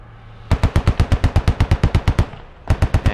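Rapid, evenly spaced automatic gunfire in a tactical military video game, a long steady burst of rounds sprayed into a tree line, pausing briefly before another burst.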